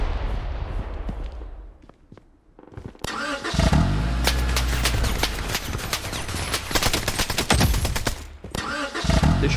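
A car engine in the shooter game Project Bloodstrike roars up and runs loudly through the clip amid rapid automatic gunfire bursts, after a quieter opening with distant shots.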